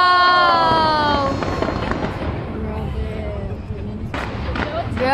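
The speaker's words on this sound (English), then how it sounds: "More than 2 minutes ang ilang fireworks." Fireworks burst overhead at a show in Taiwan, loud and close, a dense run of cracks and booms with crowd noise and people talking underneath.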